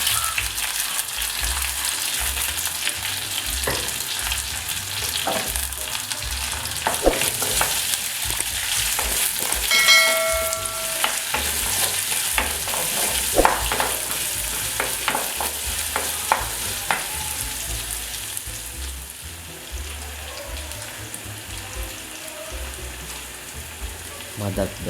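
Spices, curry leaves and onions sizzle and fry steadily in a pan while a spoon stirs with scraping clinks and knocks, close and continuous for the whole stretch.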